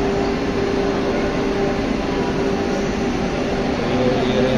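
A Vande Bharat Express train at Malda Town station produces a loud, steady roar and hum that stays continuous and close with no pauses or voices.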